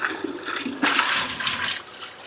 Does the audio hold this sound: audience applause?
no